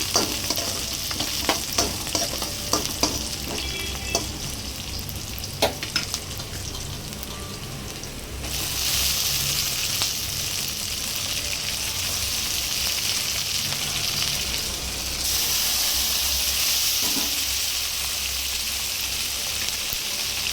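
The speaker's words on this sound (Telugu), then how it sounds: "ఆనియన్ ఫ్రై అయింది కదా ఇప్పుడు ఇందులోకి టమాటా యాడ్ చేసుకుందాం" Chopped onion and tomato sizzle and crackle in a hot pan, a steady frying hiss near and loud, with stirring scrapes early and a louder burst of sizzling as more goes in partway through.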